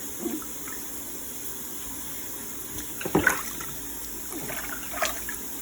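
Water sloshing and splashing in a bathtub during a child's bath, a few soft splashes over quiet running water, close by.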